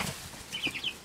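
Chickens in a backyard coop, a flock of golden laced Wyandottes, white leghorns, Americanas and a black australorp-type hen, give a short burst of wing flapping and a few clucks, close and fairly faint.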